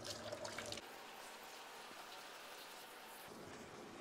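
Water is splashed and wiped across kitchen tiles and a granite countertop during cleaning, giving a steady close hiss of running, spattering water that is louder for the first moment and then settles to an even wash.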